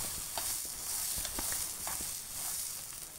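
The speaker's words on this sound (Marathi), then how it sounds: "तर मीडियम फ्लेमवरती मी हे दाणे भाजून घेते आहे." Pigeon pea seeds roasting in oil over a medium flame, a steady soft sizzle with a few light scraping stirs and taps from the utensil.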